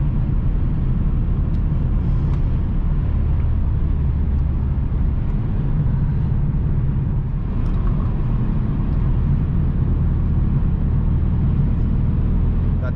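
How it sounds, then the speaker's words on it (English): An Infiniti M56 drives around curves in manual mode, its engine and road noise forming a loud, constant rumble heard from inside the car. "Shift this thing into the manual mode, go around some of these curves."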